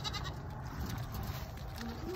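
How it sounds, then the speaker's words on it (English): A goat feeding on oranges gives a faint, short bleat near the end, quiet and slightly distant over a steady background hiss. "This is my sweet goat."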